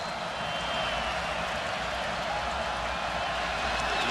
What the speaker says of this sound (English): This crowd's ready to rock and roll.